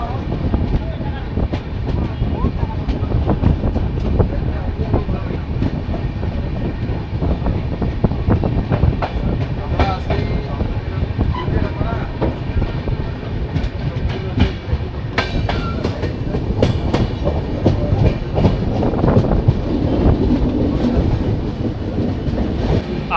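The Uttarbanga Express pulls out of Aluabari station with a steady, loud rumble and rhythmic clatter of wheels over rail joints, occasional sharp clicks and squeaks, and murmured voices in the background.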